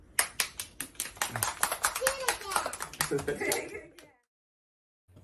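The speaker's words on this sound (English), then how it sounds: "Let's clap our hands" Hands clap along to a children's sing-along, a quick run of close, sharp claps over about four seconds mixed with voices, then abrupt silence.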